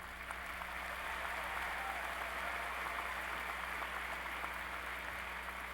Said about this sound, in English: Let's applaud the doctoral graduates.